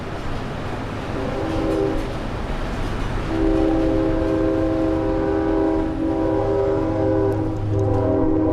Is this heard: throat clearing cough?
no